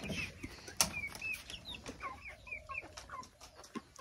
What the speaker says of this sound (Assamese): এইফালে হ'ল এইখিনি মুৰ্গী আছে